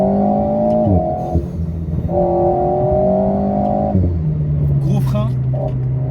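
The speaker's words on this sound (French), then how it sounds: "regardez, on downshift." An Alpine A110 sports car engine revs high, drops, and climbs again through downshifts, loud and close, with brief talk over it.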